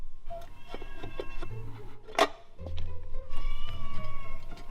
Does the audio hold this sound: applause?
no